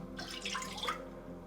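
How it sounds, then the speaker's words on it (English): Milk and then water poured into a small to medium saucepan, a continuous soft liquid splash and trickle heard close up with no talking. "I'm just gonna add my milk, and then I'll add my water."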